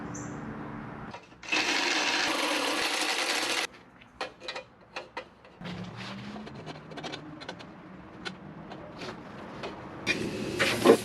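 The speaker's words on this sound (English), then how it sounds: "Here I go with the belt sander again." A loud electric belt sander whirs in a steady burst enlarging a hole in metal, then stops; scattered clunks and scraping follow before the motor starts up again near the end.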